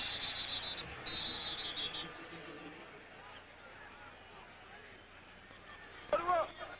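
A referee's whistle sounds at a college football game, the 1999 Las Vegas Bowl between Fresno State and Utah, with shrill bursts over stadium crowd noise and a commentator talking.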